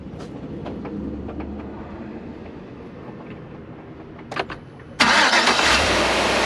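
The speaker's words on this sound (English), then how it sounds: "So let's go ahead and give it a start and see what it does." A 2010 Chevy Tahoe with a new battery and alternator cranks and fires up, the engine catching with a sudden loud rush after a few seconds of low rumbling background noise.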